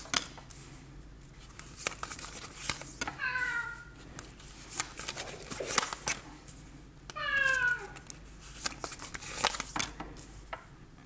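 A cat meows twice, a few seconds apart, clear and fairly close, over faint clinks and background clatter.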